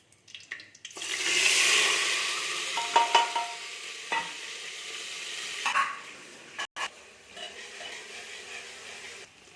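Masala paste for a potato and soya chunk curry sizzles and fries in a pan, with a loud burst early on followed by intermittent scraping and stirring clinks, no talking.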